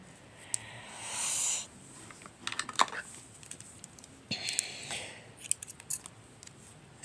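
Scissors snip knitting yarn in several quick close cuts, mixed with soft rustling and handling clicks in a quiet room.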